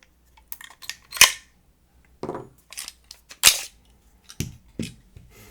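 HK45 pistol being field stripped: close, sharp metallic clacks and snaps of slide and parts, two especially loud racking strikes, with scattered lighter clicks and handling rattles between them.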